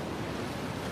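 Steady roar of ocean surf with wind buffeting the microphone, a continuous wash of noise with no voices.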